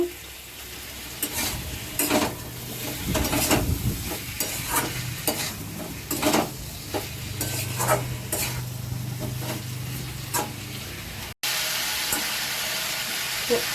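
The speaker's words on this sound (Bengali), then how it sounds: "ফুলকপি আলু ভালো করে কষিয়ে নেব।" Cauliflower and potatoes sizzle in hot oil while being stir-fried with salt, with repeated scraping stirs against the pan over a steady frying hiss, close up; a brief break interrupts near the end.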